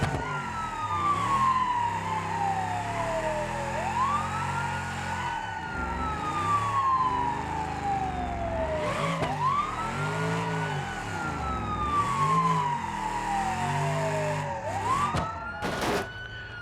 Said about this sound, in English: Let's put the siren on.